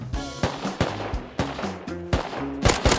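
Bursts of gunfire from the survival game Rust crack out in quick, uneven volleys, sharp and fairly close, with several separate shots spread across a few seconds.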